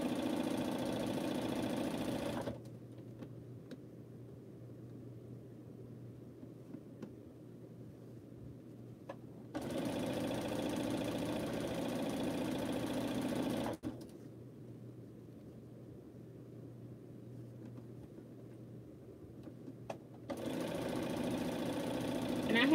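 A sewing machine running quilt seams whirs steadily in two separate bursts of several seconds each, with quieter stretches of low hum and faint room noise between them.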